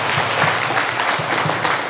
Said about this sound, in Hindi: चलिए सबके लिए एक बार ताली बजा देते हैं।